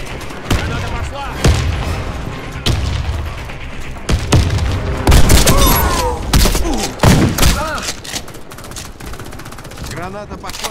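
Warface gameplay erupts in dense, loud combat: heavy booms from a grenade blast amid rapid gunfire and thuds, with voices calling out over the action.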